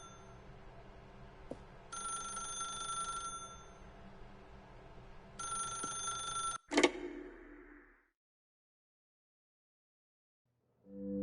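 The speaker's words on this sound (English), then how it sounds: "Now pick up the phone." A telephone rings in The Stanley Parable video game, two bursts of bright, steady electronic ringing separated by a pause, ending with a sharp click as if picked up, then near silence.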